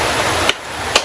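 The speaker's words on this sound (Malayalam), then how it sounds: "നമുക്ക് തേങ്ങ പൊട്ടിക്കാം." A coconut is struck to crack it open, giving two sharp, hard knocks about half a second apart over a steady background hum.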